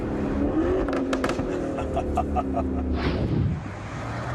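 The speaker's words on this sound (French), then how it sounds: "Écoutez ça, ce rétrogradage." A sports car fitted with an Akrapovic exhaust downshifting, giving a loud close engine roar with rapid rev blips and crackles that drop away near the end.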